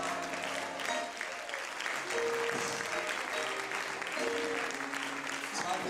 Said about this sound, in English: If you're grateful, clap your hands and give him a praise.